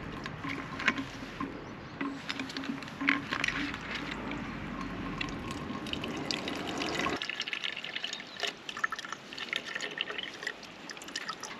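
River water flows and splashes steadily up close while a bottle is filled, with gurgling and trickling that change character midway through, continuous and fairly quiet throughout.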